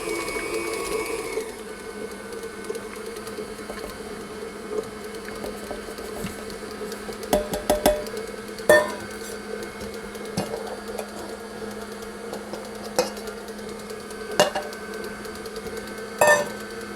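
Cream cheese and brown sugar being beaten together for a praline cheesecake: a loud, steady motorized whir with bursts of knocking and clatter, and no speech.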